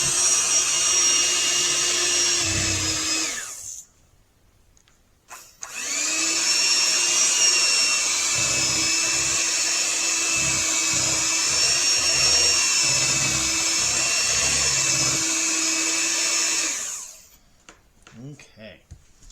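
An electric mixer whirs steadily as it beats cream cheese for banana pudding, a loud, close motor hum that cuts out briefly, restarts and runs for several more seconds before stopping.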